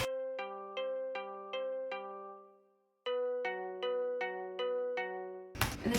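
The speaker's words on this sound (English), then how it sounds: "So the first one is this one called Asian Pluck Synth on Sculpture" An Asian Pluck synth patch from Logic's Sculpture, layered two octaves apart, rings out in two phrases of bright, bell-like plucked notes, each struck evenly and decaying, with a short gap between phrases and a burst of noise at the end.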